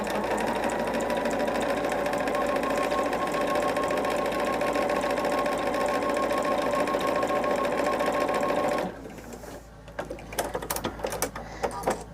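A sewing machine stitches a quilt block for a patchwork quilt, running steadily and loudly for about nine seconds, then stopping, followed by scattered light clicks and handling noises.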